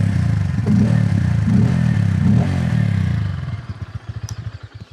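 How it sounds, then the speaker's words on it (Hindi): Bajaj Pulsar N150 motorcycle from 2023 with an underbelly exhaust, heard up close: a deep, steady idle rumble that then breaks into distinct uneven pulses as the engine note drops. "एक एग्जॉस्ट नोट जो है वो ज़रूर मैं आपको सुनाना चाहूँगा।"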